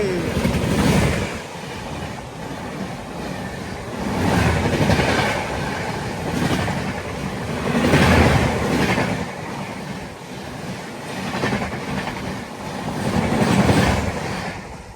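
Janmabhoomi Express running from Lingampalli to Visakhapatnam rushes past at a crossover, a loud sustained roar of wagons with rhythmic clickety-clack surges every couple of seconds across the whole stretch.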